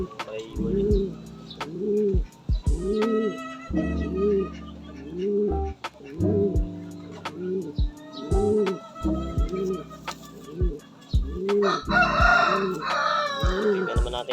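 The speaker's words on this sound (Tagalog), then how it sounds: "Ito naman yung ating cock, yung ngayong kinondisyon natin para sa breeding." A breeding gamecock conditioned in a loft crows several times in a row, loud and close, with pigeon-like cooing and bird calls around it and no talk.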